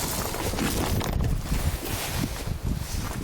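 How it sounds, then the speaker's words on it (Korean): Strong gusting wind buffets the microphone at a frozen campsite in about -26°C cold, a loud continuous roar with surging low rumble and no voices. "아 진짜 오늘 강풍 불어가지고 난리다"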